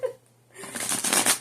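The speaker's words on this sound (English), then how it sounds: "Okay, I'm going to do 6 shuffles." A deck of tarot cards is shuffled close up, a brief soft riffling flutter that builds into a dense, crisp rustle after a short pause.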